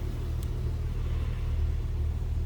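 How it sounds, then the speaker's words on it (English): A 1950 Chrysler Windsor sedan engine idles in reverse with the brake held, a steady low rumble continuous and close throughout. "Push the brake, and it'll sit and idle in one spot in reverse."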